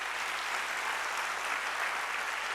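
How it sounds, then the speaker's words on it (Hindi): Audience applause for the volunteers at a lecture session, a dense, even wash of clapping from a large crowd, steady and somewhat distant. "तो एक बार उन सभी सेवाधारियों के लिए जोर से आप तालियां बजाइए"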